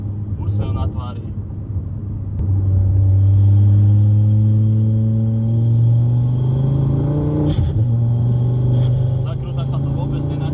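A 300 hp Ford Focus ST engine drones steadily while driving, a deep rumble that rises and holds as it pulls through the gears, heard from inside the car with someone talking over it.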